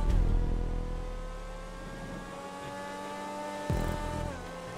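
A Wagner supercar engine in GTA Online, a racing video game, revving and droning loudly with shifting pitch, easing off then surging again near the end, with no talk over it.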